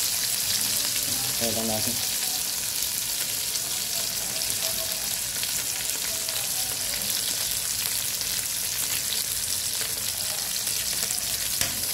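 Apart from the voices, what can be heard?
fish frying in a pan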